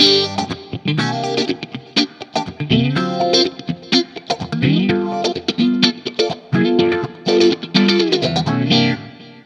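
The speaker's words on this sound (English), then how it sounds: "Let's put a phaser on." An electric guitar through a Marshall JTM45-style amp tone plays a funky riff with a phaser's swirling, sweeping effect, with choppy chords and bright tone, loud and up close.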